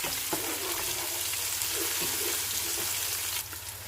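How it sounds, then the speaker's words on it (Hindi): Ginger garlic paste fries in a pan with a dense, continuous hiss and crackle, broken by a few soft scraping stirs, close and steady throughout. "तकरीबन 2 से 3 मिनट के लिए हम इसे भूनेंगे अच्छे से।"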